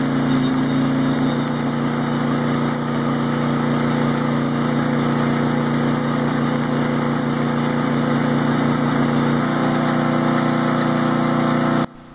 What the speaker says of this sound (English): take a listen as this welder makes that generator struggle.